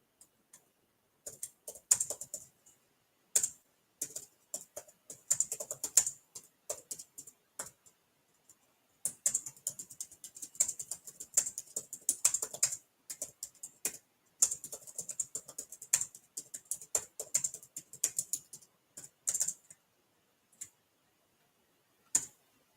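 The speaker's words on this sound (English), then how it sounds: "let's see if I can type in a message" Typing a message on a computer keyboard: rapid, irregular key clicks in bursts, pausing briefly and then resuming, close and fairly quiet, with no voices.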